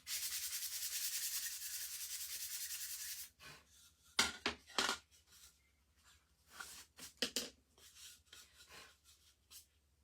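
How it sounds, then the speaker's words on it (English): Fine 400 grit sandpaper rubs over the painted background of a small wooden sign, first in a sustained close scratchy stroke, then in short irregular swipes separated by quiet gaps. "I just like to lightly go over my backgrounds. Just smooth them out. This is 400 grit."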